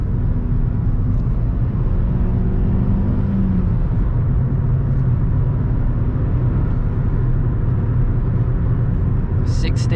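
A Ford Fiesta on the road pulls hard in second gear, a loud, continuous engine and road roar heard from inside the car with a rising note early on.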